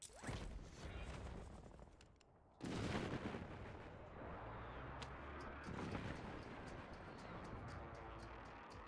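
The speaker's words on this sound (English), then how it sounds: "Enemy airstrike in the area." Airstrike explosions in the Warzone video game: a dense, continuous barrage of booming blasts and crackling debris, with a sudden heavy burst partway through and rumbling impacts continuing loudly to the end.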